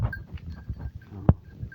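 Mother goats come back from the forest over a bridge, with several soft, scattered bleats and one sharper, louder cry from close by.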